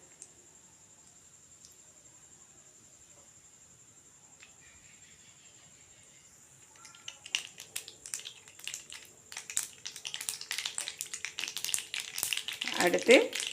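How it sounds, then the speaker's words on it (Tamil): Mustard seeds and urad dal crackling in hot oil for mango rice, a quiet start giving way to dense, rising sputtering and popping over the last half, loudest near the end, with no talk over it. "எண்ணெய் காஞ்சதும் கடுகு, உளுத்தம்பருப்பு சேர்த்துக்கலாம்."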